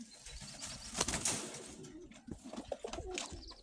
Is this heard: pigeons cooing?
yes